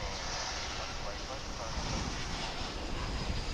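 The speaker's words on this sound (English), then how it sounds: "Here comes an A321." An American Airlines Airbus A321 on approach to DFW airport, arriving from Denver, gives a steady distant jet roar with broad rushing noise and some wind buffeting on the microphone.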